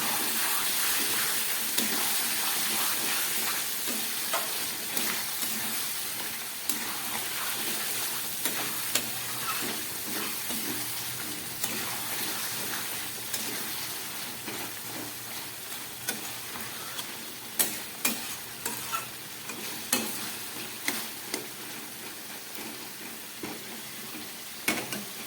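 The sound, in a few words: masala frying with mutton on low gas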